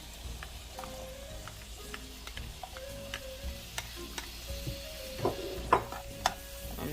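Thyme, scallion, onion, scotch bonnet pepper and garlic sauté in a pan, with a soft steady sizzle and repeated light scrapes and clinks of a utensil stirring, growing a little busier toward the end; no voices.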